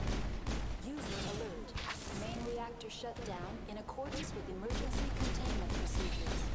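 Gunfire and combat effects from the video game Mass Effect crackle in bursts under steady talking, with sharp shots and whooshes scattered through a busy, loud mix.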